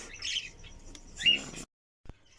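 Cockatiel parents and their chick call inside a cage at a bird farm, giving a few bright squawks and chirps over about a second and a half before the sound cuts off, then one short sharp note.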